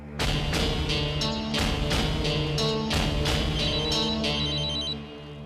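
A telephone rings in a home, sounding in repeated bursts of bright, loud ringing with short gaps between them and no voices.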